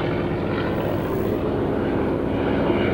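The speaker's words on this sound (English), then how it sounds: "And Mike DiMarino, also from the plains of San Chino, F4U Corsair" F4U Corsair World War II warplane passing over an airshow, its propeller engine drone loud and steady throughout with a broad rumbling roar.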